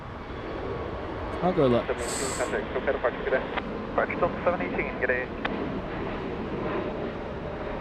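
A United airliner rolls along the runway at LAX, a steady distant jet rumble with a short higher whine, while people talk over it close by.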